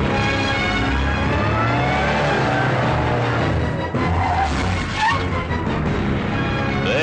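A car engine roars loudly and close alongside tire squeals and skidding, its pitch sweeping up and down as it revs, in a comedic Telugu film scene.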